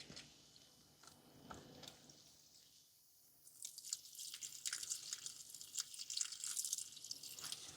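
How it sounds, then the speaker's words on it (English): Water poured carefully onto potted plants, a steady splashing trickle that starts faint and then swells into continuous close spattering with a few soft drips. "now let us, oh so carefully, water some plants"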